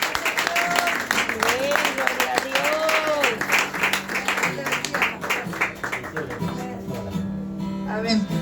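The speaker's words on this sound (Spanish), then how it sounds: "Da ese fuerte aplauso al Señor" A church congregation applauds in a sustained patter of clapping beneath a pastor's voice speaking and praising over it, with music playing softly underneath.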